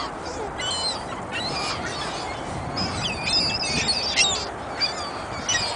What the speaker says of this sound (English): all the birds are eating the bird food